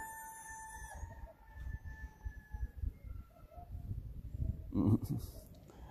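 Fowl calling outdoors, a rooster crowing with drawn-out harmonic cries near the start, then scattered clucks and squawks over a low rumbling background, with a louder burst of activity toward the end.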